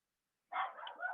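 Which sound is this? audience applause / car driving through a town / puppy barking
puppy barking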